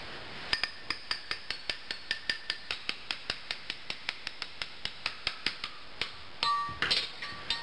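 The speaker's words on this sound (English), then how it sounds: "Scribe that and then go inside and tap it, that crack." A scored beer or wine bottle is tapped from inside to crack it in half, producing a rapid, even series of sharp glassy ticks, close and crisp, ending with a brief clinking rattle as the glass gives.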